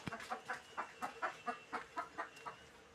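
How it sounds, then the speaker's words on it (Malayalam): Hens clucking in a quick series of short, rhythmic calls while queuing to lay eggs, about a dozen in three seconds, fairly close and otherwise quiet. "കോഴിക്കൾ വരിക്ക് വരിക്കാണ് മുട്ടയിടാൻ കയറുക അപ്പോൾ ഓരോരോ ഒച്ചപ്പാടാണ്"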